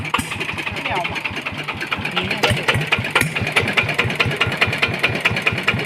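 A Yanmar 120 diesel boat engine idles with a steady, rapid knocking rhythm, close and clear, with a faint voice briefly in the background.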